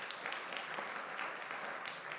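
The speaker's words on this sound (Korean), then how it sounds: "고생하는데 우리 지수 형제 박수." A church congregation during a Sunday service claps for a member who finished basic military training, brief dense applause heard at a moderate distance.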